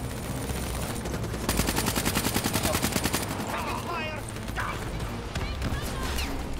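Gunfire in Call of Duty: Black Ops 3, a rapid burst of automatic shots rattling loudly for a couple of seconds, followed by scattered sharper bangs and blasts, with people talking over the action.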